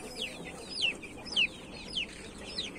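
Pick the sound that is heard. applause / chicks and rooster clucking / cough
chicks and rooster clucking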